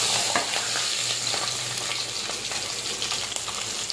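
Fish fries in hot oil in a pan on a home kitchen stove, a steady dense sizzle with crackling spits and some stirring, close and continuous without talk.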